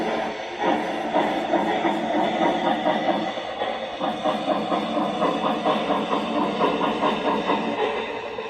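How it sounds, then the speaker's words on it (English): A Bachmann two-truck Shay model locomotive working its cylinder valve sound, a steady chuffing, hissing mechanical rhythm with quick repeated beats, running continuously at moderate level with no talk. "F12 is the cylinder valves"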